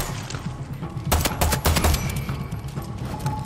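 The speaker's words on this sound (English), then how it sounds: "Pistol has pretty good range." In the video game Far Cry 6, pistol gunfire rings out as a quick burst of several sharp shots, close and loud, over ongoing game background noise.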